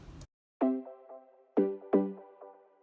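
A Serum synth pluck patch without its noise oscillator plays a few clean tonal notes with quick attacks and ringing decays, moderately quiet and without voices.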